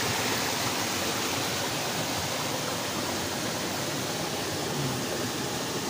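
Water flows steadily at a water intersection, a dense continuous rushing hiss like a stream or small waterfall, loud and unbroken throughout.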